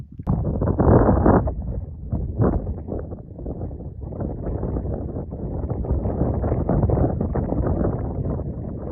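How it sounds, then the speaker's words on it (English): Strong wind buffeting the microphone outdoors at Petrified Forest in Arizona, a rough rumbling roar that surges in gusts and never lets up, with no voices heard. "it's windy and that's really annoying"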